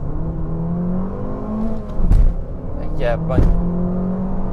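Remapped Abarth 595 engine revving hard in Sport mode, a steady droning hum that climbs in pitch with brief surges and gear-change dips, heard from inside the car under a man's short spoken remarks.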